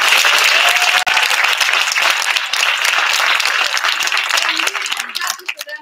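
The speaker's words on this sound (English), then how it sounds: "So can we give them a round of applause?" Loud, dense applause fills a middle school drama production of The Wizard of Oz, sustained clapping from the audience that thins out and trails off near the end.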